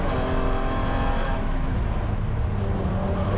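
A BMW E9X spec race car accelerates hard on a track, its engine a loud, sustained in-car roar with a brief dip mid-way, as if from a shift, before building again.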